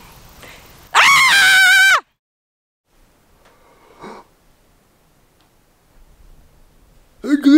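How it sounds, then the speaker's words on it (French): A woman on the Te Araroa Trail in New Zealand lets out one loud, piercing scream lasting about a second. Near-silence follows, with faint breaths and small sounds, then a short shrill vocal burst. "j'ai très envie d'hurler, genre à cette caméra"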